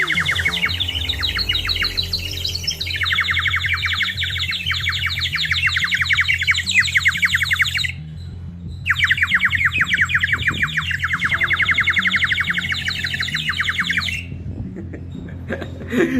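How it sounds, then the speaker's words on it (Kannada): A water-filled bird whistle is blown in long continuous bursts, giving rapid warbling trills like birdsong, loud and close, with a brief pause near the middle and another near the end, and no speech. "ಇದರಲ್ಲಿ ನೀರು ತುಂಬಿಸಿದಾಗ ಮತ್ತೆ ನಾವು ವಿಸಿಲ್ ತರ ಊದಿದಾಗ ಹೇಗೆ ಬರುತ್ತೆ ಅಂತ ನೋಡಿ ಸೌಂಡು"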